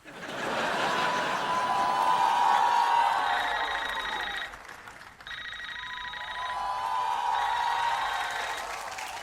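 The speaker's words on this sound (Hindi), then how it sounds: "अरे फोन बज रहा है, फोन बज रहा है, फोन बज रहा है।" A telephone rings with a bright, warbling tone in two long bursts separated by a brief gap, against a busy background.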